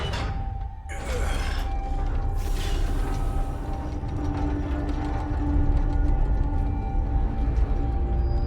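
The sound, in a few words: old Enigma lock mechanism opening, Marvel's Midnight Suns video game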